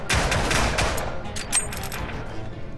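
Shotgun fire in the VR multiplayer game Hover Junkers, a few loud, sharp blasts in quick succession followed by softer rattling gunfire, close and punchy.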